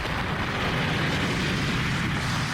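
A gunpowder blast in a Tintin cartoon, told in the Red Rackham's Treasure story: a sustained, loud, rumbling roar of explosion filling the whole stretch with dense low-end noise and no voices.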